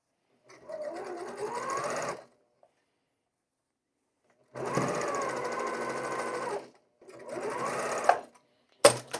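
A sewing machine stitches quilt block seams in three steady runs of rapid, close mechanical whirring. The runs are separated by silent pauses, and a couple of sharp clicks come at the end.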